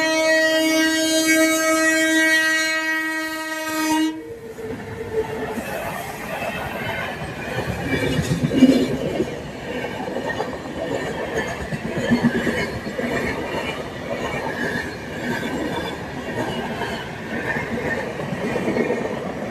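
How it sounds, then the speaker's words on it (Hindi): A train rolls past a railway level crossing with a long horn blast at the start, then steady wheel clatter and rumbling carriages fill the rest, loud and close. "अब आ गया ट्रेन।"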